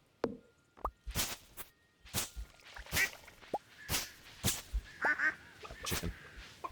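Farm chickens in the video game Stardew Valley give a string of short, sharp clucks and honk-like calls, spaced irregularly over a quiet background with no talking.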